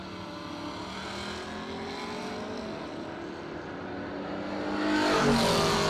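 Drag race launch at a March Meet between a 1969 Mustang and the Wonder Wagon, engines roaring loudly and building in intensity toward the end, with rising revs and no talk.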